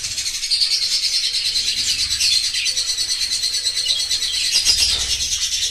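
Rainbow budgerigars in a breeding cage give a steady, continuous chorus of bright chirps and twitters, fairly close and loud throughout, with no talking.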